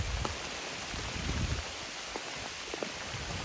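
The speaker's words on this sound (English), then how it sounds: "It's raining, it's pouring" Rain falls on the Appalachian Trail during a thru-hike, a steady close patter of drops on surfaces with scattered louder splats and no voices.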